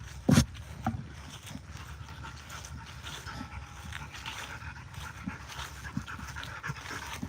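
A dog pants steadily and laps at water, quiet and close, with a short louder bump near the start and no talking.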